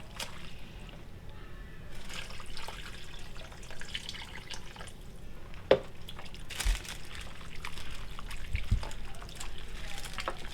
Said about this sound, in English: I'm going to add just a little bit of water.